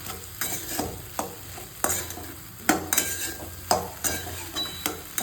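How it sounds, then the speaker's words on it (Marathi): Chili powder, salt, onion and tomato get stirred in a sizzling pan for a Vidarbha-style ghugrya dish, the spoon scraping and knocking the metal in irregular strokes over a constant soft frying hiss, close and clear. "सगळं तिखट, मीठ, कांदा, टोमॅटो व्यवस्थितपणे मिक्स करायचं."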